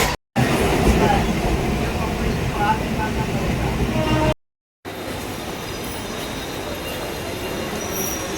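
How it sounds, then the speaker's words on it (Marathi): A Mumbai suburban local train bound for Mulund rumbles steadily from inside the carriage, a dense continuous roar with faint wheel squeal, briefly cut off once before the same heavy ride noise resumes. "आता आपण ट्रेन पकडली आणि चाललोय मुलुंडला"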